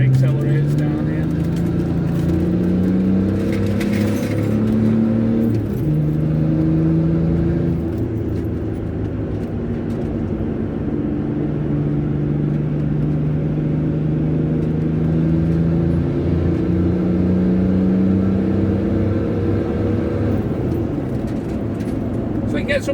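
A Range Rover P38 with a BMW M51 2.5-litre six-cylinder turbodiesel running on vegetable oil accelerates, its engine droning and rising through gears steadily from inside the cabin.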